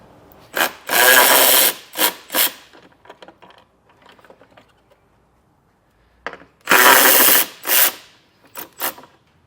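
A 10mm socket ratchet removing tail light bolts on a 2025 Kia: two loud bursts of rapid rasping ratchet clicks separated by quieter scraping and small handling noises, close up with no talking.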